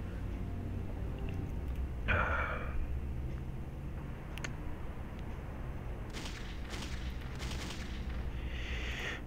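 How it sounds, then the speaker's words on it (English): Gunfight in the video game Fallout 2: scattered gunshots and short bursts of gunfire sound at a distance over a low rumbling background, with no talking. "And they're apparently shooting guns up there."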